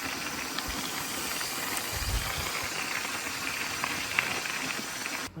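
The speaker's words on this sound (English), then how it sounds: "as you can tell by the sound of the rumbling diesel engine" A diesel engine idles at a camp in Denali National Park, a steady low rumble with a faint rattle, close and continuous and unbroken by speech.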